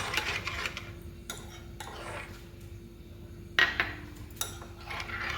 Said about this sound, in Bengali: গুঁড়ো দুধ ভালো করে মিশিয়ে নেব